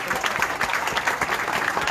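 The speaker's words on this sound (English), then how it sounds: "Give Lucas a round of applause." An audience at a football club's player of the season awards applauds a young fan presenting an award, producing brisk, continuous clapping throughout.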